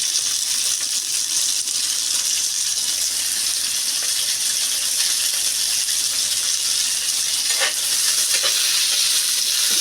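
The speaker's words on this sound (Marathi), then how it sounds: "काजू तेलावरती परतून घेणार आहोत पॅनमध्ये तेल टाकलेलं आहे" Cashews fry in oil in a pan. A loud, dense, continuous sizzle holds steady close by, with a couple of faint clicks near the end.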